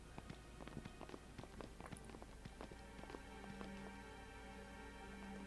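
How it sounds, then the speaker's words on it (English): Party members walking in a line in Final Fantasy X HD, their footsteps a steady run of soft, even taps over a continuous tonal game backdrop. "I find it so funny hearing just those footstep sounds, just we're just walking in a line"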